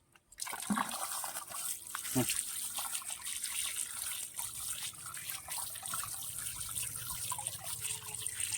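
Water runs and splashes steadily over a fish head being washed, with trickling and dripping sounds and a few soft knocks, fairly quiet throughout.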